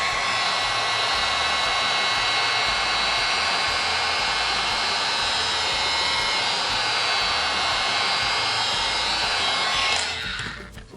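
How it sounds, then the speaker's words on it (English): A heat gun blows hard along the edge of a decoupaged pumpkin bread board to soften the resin, a loud, steady close-up roar that holds for about ten seconds before it cuts off and fades. "we're going to run the heat gun right along the edge here to soften this resin"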